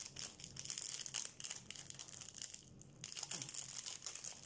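Plastic packaging of diamond painting supplies being crinkled and torn open by hand, close and quiet, with irregular crackling bursts and brief pauses.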